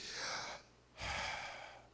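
A person imitates breathing with two long, airy breath sounds, a drawn-in gasp followed by a pause and then a second sustained exhale, close and fairly soft.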